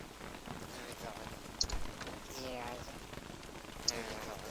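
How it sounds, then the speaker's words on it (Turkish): Rain in the video game Don't Starve Together falls as a soft, continuous hiss with a couple of brief bright ticks, faint under someone talking. "Bu yağmur bitmiyormuş ya."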